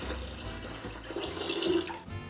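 Watermelon mixture pours in a steady liquid stream into a large pitcher, soft and close, splashing slightly near the end.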